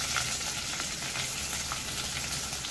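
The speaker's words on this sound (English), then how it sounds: "So after oil is heated up, add the sliced onions" Sliced onions sizzle steadily in heated oil, a close, even frying hiss with no pauses.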